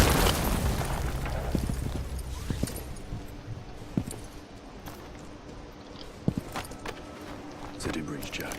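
A breach charge goes off in Rainbow Six Siege with a loud burst right at the start, followed by scattered thuds, footsteps and small impacts over a low background rumble.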